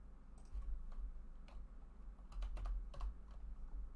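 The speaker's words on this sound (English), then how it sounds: "So in the text box, I would just type in land." A computer keyboard clatters as keys are tapped in short, irregular bursts over a few seconds, quiet and close against a low background hum.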